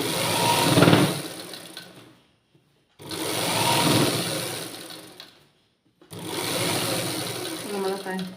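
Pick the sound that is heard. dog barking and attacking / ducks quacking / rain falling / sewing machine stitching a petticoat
sewing machine stitching a petticoat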